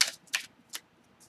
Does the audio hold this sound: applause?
no